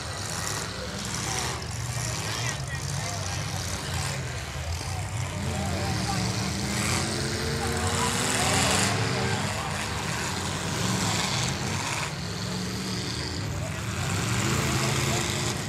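Demolition derby car engine running at an arena event, a dense rumbling roar with shifting pitch that stays loud throughout, mixed with crowd noise and a commentator talking over it.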